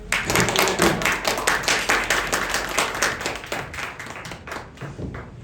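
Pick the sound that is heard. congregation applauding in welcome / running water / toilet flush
congregation applauding in welcome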